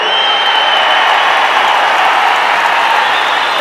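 An audience applauding at the Idly Kadai film audio launch, dense clapping and cheering that stays loud and steady throughout, with no voice over it.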